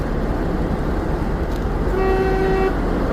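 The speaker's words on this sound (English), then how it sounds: "I had to honk at some geese." A car horn sounds once in a sustained toot lasting under a second, over steady road and engine rumble inside a vehicle, honking at geese on the roadside.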